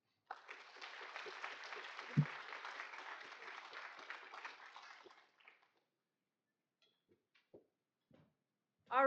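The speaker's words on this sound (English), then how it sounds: "Let's give a huge round of applause for our 5 amazing storytellers" Audience applause at a storytelling event rises and holds for about five seconds, then stops abruptly, leaving near silence with a few faint scattered sounds.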